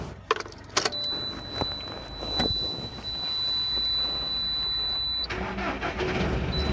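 A car rolling slowly along a roadside near Gandhidham at night, with steady engine and tyre rumble up close, a brief mechanical clunk near the start and another shift in sound near the end.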